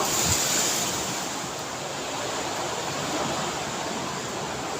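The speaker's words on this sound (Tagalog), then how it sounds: "malakas pa rin guys yung hangin" Strong typhoon wind roars continuously like a broad rushing hiss, loud and unbroken, with no voices heard.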